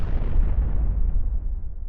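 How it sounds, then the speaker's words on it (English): A heavy explosion sound effect booms through a castle, a loud continuous low rumble that fills the halls and slowly fades over two seconds, with no voices. "The explosion was felt all over the castle, echoing across the halls and shattering several windows"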